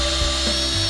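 A drill reams a tap hole in a maple tree, a steady high whirring hum close by that holds through the whole second.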